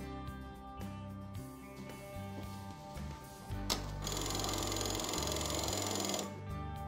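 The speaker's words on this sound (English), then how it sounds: "a ballot receipt is printed, and the printer then scrolls to hide your selections" Accuvote TSX voting machine printer running in bursts as it prints a ballot receipt and then scrolls, a close mechanical whirring and clattering with a louder, brighter feed near the end.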